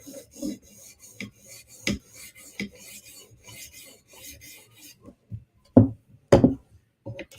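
Knife blade drawn across a 400 grit sharpening stone, a series of short rasping scrapes at an uneven rhythm, close and fairly quiet, with a few sharper knocks near the end.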